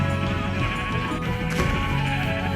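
Sheep in Minecraft bleating while being sheared for wool, several wavering, nasal bleats in quick succession, loud and close, over a continuous game background.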